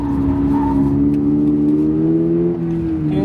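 A stock 2022 Subaru BRZ engine revs steadily at high pitch in second gear, the tone rising and falling slightly as it holds throttle through a drifting turn, loud and close throughout.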